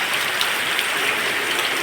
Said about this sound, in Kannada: ಆದರೆ ಒಳ್ಳೆ ಮಳೆ.